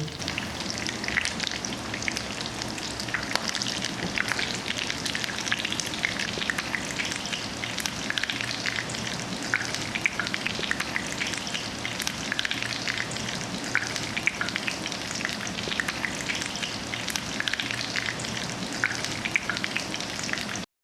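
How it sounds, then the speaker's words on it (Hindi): Chicken and vegetable kebabs sizzle steadily in a pan over low to medium flame, a dense, even crackle of frying oil that runs on alone without pause or talk. "लो टू मीडियम फ्लेम पे हम इनको ऐसे ही गोल्डन ब्राउन कर लेंगे।"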